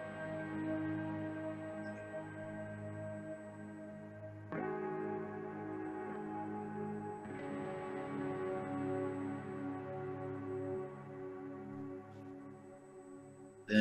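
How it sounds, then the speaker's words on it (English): Guitar played through a Guitar Rig Cream Snowflakes preset panned hard left, sustained tonal chords ringing with a washy, echoing tail, restruck a few times with fresh attacks and steady moderate loudness, no voices. "So I just found this cream snowflakes preset. It really brings the guitar to life."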